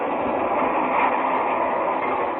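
Train on the move as a radio drama effect, a steady close rumble and rattle of rolling carriages holding even throughout, with no voices.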